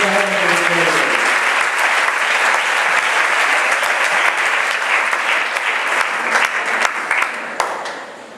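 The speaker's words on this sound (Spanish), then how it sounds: "demos un fuerte aplauso" A church congregation breaks into loud, sustained applause to God during a faith seminar, dense clapping filling the room at close range after a brief voice at the start, then tapering off at the end.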